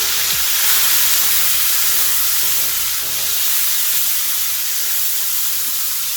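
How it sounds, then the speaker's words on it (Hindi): Masala spices frying in a pan give a steady, loud sizzle and hiss throughout, with no voices over it. "मसाला मेरा ऑलमोस्ट भुन गया है।"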